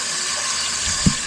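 Tap water runs steadily into a container being filled for storage, a continuous close hiss with a brief low splash or knock near the end, no voices.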